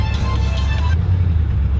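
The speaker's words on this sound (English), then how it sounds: "kind of driving a C3 Vette" A Chevrolet C3 Corvette drives along, its engine a steady low rumble close by, with brief higher tonal hum early on that drops away after about a second.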